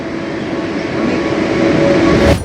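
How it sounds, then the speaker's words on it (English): A train in Kuala Lumpur pulls out of the station with a loud, continuous rumble and steady hum that grows slightly before cutting off abruptly. "Goodbye, train."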